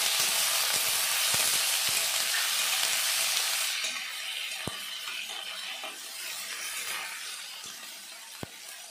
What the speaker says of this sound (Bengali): আলুটা আমি 2 থেকে 3 মিনিট মতো ভেজে নিয়েছি